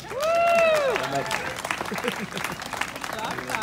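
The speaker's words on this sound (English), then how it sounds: "Have a really huge round of applause for Kyle." Audience applause for a street performer at Granville Island, Vancouver, building into steady clapping after a brief call from a voice at the start, with crowd noise underneath.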